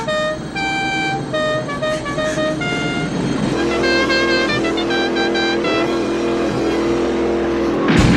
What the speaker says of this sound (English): you hear the horn come across, kind of like the General Lee horn